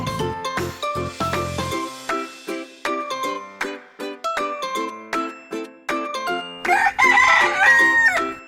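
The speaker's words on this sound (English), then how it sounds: "Rooster." A rooster's cock-a-doodle-doo rings out loud and close, set among a series of bright, evenly spaced tonal notes, with the crow swelling strongest near the end.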